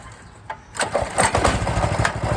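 A Colmen mini bike's small engine is pull-started with the choke on: a quiet lead-in, then it catches and sputters into a loud, close, rapid chugging run.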